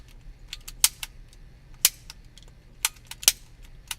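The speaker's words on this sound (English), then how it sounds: "I don't know what's wrong with this torch now" A butane torch lighter is clicked repeatedly without catching: a handful of sharp, close, dry clicks at irregular intervals over faint background hiss.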